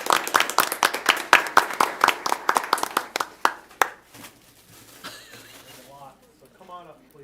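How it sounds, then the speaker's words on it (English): Sharp, close claps from a small audience at a school board meeting, loud for the first few seconds before dying out, after which quieter background sounds and faint voices remain. "let's give them a big round of applause"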